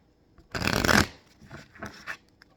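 Tarot cards shuffled by hand in one brisk riffle burst, followed by a few softer, shorter shuffling rustles close up.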